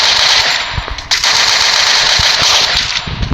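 Rapid automatic gunfire from a mobile shooting game runs loud and dense through the whole stretch, with a few brief dips and punchy low thumps, and no talk over it.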